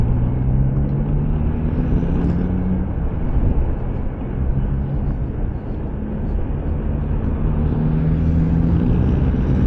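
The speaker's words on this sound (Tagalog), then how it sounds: "May kotse sa likuran ko" A car drives close behind on a road near a Tagaytay flyover, giving a continuous low engine rumble with faint rising tones over steady road noise.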